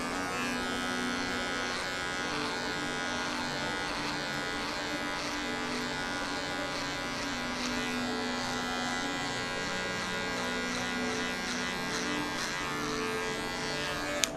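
An electric hair clipper buzzes steadily and close up while cutting a fade with a zero guard in a barbershop, producing a continuous hum with slight shifts as it moves across the head.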